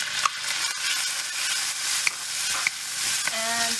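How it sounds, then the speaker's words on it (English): Pork pieces sizzle in a hot pan with browning garlic, a steady close frying hiss with a few sharp crackles and pops, no talking. "once it's ready, it's getting brown, add some pork in"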